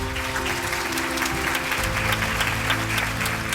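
Audience at a singing reality show grand finale gives loud, sustained applause, a dense, even wash of clapping with steady musical tones humming underneath.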